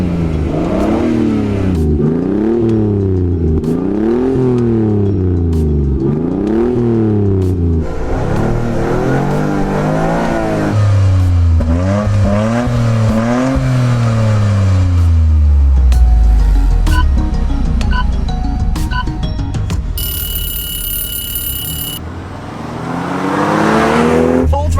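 A 1997 MK4 Toyota Supra with traction control off launches alongside a GR Corolla in a drag race: loud, close engines rev in repeated rising and falling sweeps through gear changes, then a long pull fading away, with some voices.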